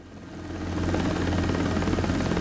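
Simulated helicopter engine and rotor in the X-Plane 12 flight simulator, a dense, continuous low thrum with a steady rotor beat that builds slightly, then holds loud and even, with no talk.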